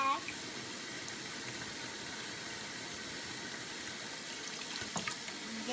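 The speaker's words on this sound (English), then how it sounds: "Now I have to turn the water off." A kitchen tap runs water into a sink in a steady, continuous hiss and splash, close by, with a faint thump near the end.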